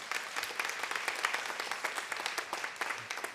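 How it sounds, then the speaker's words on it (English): An audience at a live comedy show applauds veterans in the crowd, dense steady clapping from many hands that holds for a few seconds, fairly close and filling the room. "Yeah, round of applause."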